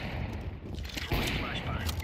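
A decoy grenade in Counter-Strike 2 popping out fake gunfire, a quick string of sharp shots with a heavier thump midway, under people talking.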